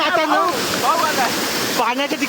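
Rushing water at Darekar waterfall fills the air with a steady, close broadband wash, while people talk over it throughout.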